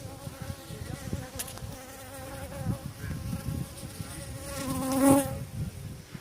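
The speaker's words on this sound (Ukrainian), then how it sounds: "Карпатська бджола." Steady droning buzz of many Carpathian honey bees nearby at an apiary, swelling slightly louder toward the end, with no voices.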